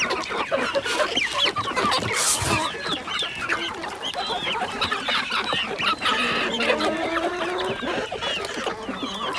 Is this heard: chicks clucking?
yes